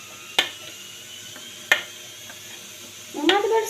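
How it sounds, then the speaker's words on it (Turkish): Spoon scraping homemade dessert from a pot in a home kitchen, giving a few sharp metallic scrapes spaced apart, then a longer rougher scrape at the end over faint background noise. "Kaşıkla sıyırıyoruz."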